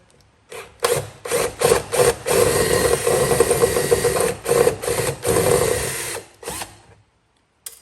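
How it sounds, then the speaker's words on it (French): A cordless drill fitted with a 5 mm bit bores out rivets on a Volkswagen window regulator mechanism, loud bursts of whirring and grinding starting and stopping several times, close up with no talking. "J'ai pris une mèche de 5. Et puis ensuite, délicatement, je vais venir percer les rivets."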